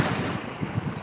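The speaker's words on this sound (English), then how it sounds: "It's a windy day." Gusty wind buffeting the microphone on a windy day out on a boat with an outrigger, a steady loud low roar with slight surges, no voices.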